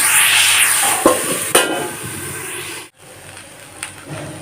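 Mixed vegetables fry and sizzle in a wok as they are stirred, then covered with a plate over a low flame, with steady sizzling broken by a few sharp clanks and a brief quiet dip.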